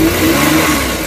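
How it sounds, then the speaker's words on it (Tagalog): A Suzuki DA63 engine revving hard while running with low power and a rough vibration, a loud, steady, droning roar close by that holds for just over a second, with no talking. "saka maugong yung engine"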